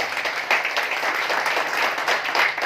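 An indoor audience claps together in a dense, steady wash of applause that stays close and fairly loud throughout, with no voices standing out.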